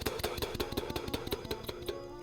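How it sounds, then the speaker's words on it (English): Trumpet articulation practice on a relaxed tongued Tu syllable: a quick, even run of short attacked notes, about a dozen crisp pulses over a sustained pitched tone, close and moderately soft, with no voice. "add a precise and relaxed tongue pronouncing the syllable Tu over the breath rather than against it"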